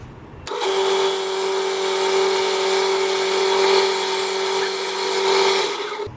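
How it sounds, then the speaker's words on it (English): Knife blade held against a running belt sander for sharpening, a steady loud whirring hiss with a constant motor tone that starts abruptly and runs evenly for about five seconds before stopping. "by coming across at this angle, you can see how much of the knife is actually on the belt."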